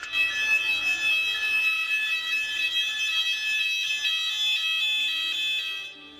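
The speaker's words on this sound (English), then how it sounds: "The fire emergency alarm is a steady and continuous siren sound." A steady, continuous fire alarm siren tone rings loudly and without pause, holding the same high pitch until it fades at the very end.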